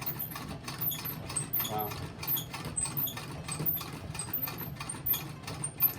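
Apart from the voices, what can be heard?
Singer Model 27 antique sewing machine stitching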